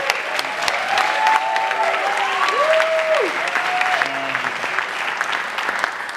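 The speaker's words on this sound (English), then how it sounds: "just give them a round of applause" Audience at a film premiere and Q&A gives a loud, steady round of applause lasting several seconds, dense clapping filling the room with a few whoops or tonal cheers riding over it.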